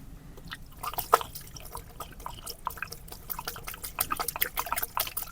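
Small irregular drips and trickles of antifreeze draining from a car's cooling system, a scattered patter of drops over a low steady background, close and fairly quiet, with no talking.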